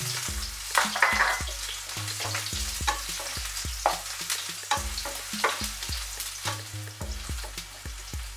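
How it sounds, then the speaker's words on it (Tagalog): Garlic and scallion sautéing in hot cooking oil, a lively close sizzle broken by a steady series of spatula scrapes and taps against the pan, with no voices. "Pag slight mainit na, igisa na ang bawang. At isusunod ang scallion."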